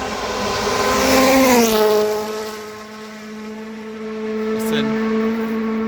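Rally car at Rally Sweden running flat out against the sixth-gear rev limiter, a loud, close, sustained engine howl that dips slightly in pitch and holds steady, with a brief spoken word over it.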